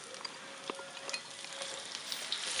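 Chopped onion hits a hot frying pan with crushed garlic, giving a quiet, steady sizzle of oil with occasional small pops and the scrape of stirring.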